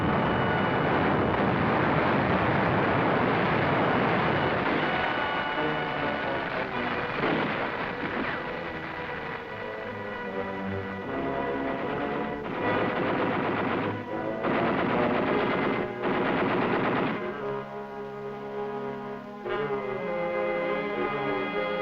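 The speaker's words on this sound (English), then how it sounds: "Our artillery delivers heavy fire on the central strong point of the enemy's defense line" Artillery barrage in the Battle of Okinawa, with heavy fire pounding the Shuri defense line; dense, continuous booming and rapid gunfire roar throughout, loud and sustained with music-like tonal layers mixed in.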